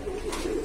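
A single soft, low coo from a Shahjahanpuri pigeon, heard up close for a brief moment against a faint background hiss.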